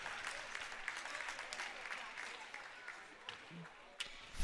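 A crowd at a Serie A2 roller hockey match between Seregno Hockey 2012 and Hockey Pico applauds the referee as he returns to the rink after a ball to the face. The clapping is dense and steady, fading slightly toward the end.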